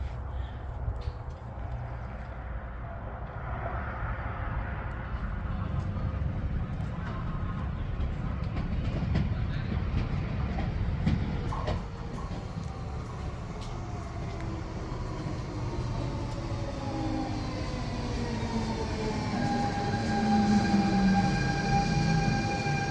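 A metro train rumbles and clatters steadily, then its motors whine in rising and falling tones as it pulls into the station.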